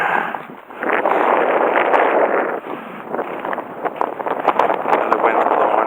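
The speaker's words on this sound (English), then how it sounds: "The wind's blowing." Outdoor wind buffets a microphone on a walk in Primm, Nevada, with a loud steady rumble, brief lulls and gusty rustling throughout.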